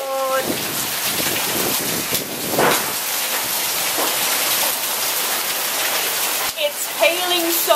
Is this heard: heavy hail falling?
yes